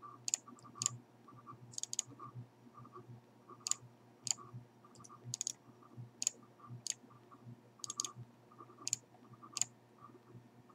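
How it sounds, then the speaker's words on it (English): A computer mouse clicks OK again and again while servers are added one at a time in a Minecraft beta client setup, sharp close clicks coming in irregular pairs and singles with no talk. "And then you just keep clicking OK to add each one."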